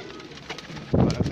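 Pigeons at a racing loft give a short burst of low, throaty cooing that rises near the end of the moment, close and moderately loud over faint background noise.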